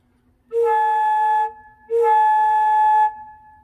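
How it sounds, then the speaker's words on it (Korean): Two steady, pure sustained notes from a wooden Hohl flute organ pipe with holes, each held about a second with a short gap between, clear and close in a quiet room. "홀 플룻인데 구멍이 있어요."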